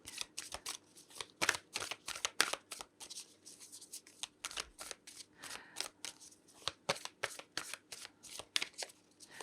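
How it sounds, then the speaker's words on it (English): Two decks of tarot cards being shuffled up close, a steady run of crisp riffling bursts and flicks repeating throughout with no talking. "Now I'm going to shuffle both decks and see what comes out."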